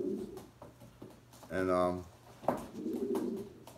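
Pigeons in a racing pigeon loft coo in soft, throaty, rolling bursts close by, while a person speaks briefly over the calls.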